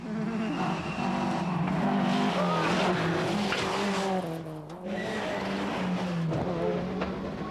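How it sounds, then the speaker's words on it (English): Rally cars, a Subaru among them, race through a stage of the 1992 Circuit of Ireland Rally, engines howling and rising and falling loudly near by with tires scrabbling on the surface, and a commentator speaks over the noise. "McKinstry's Subaru still leads, but Frank Marr has been 15 seconds quicker on Slieve Namon than anyone else"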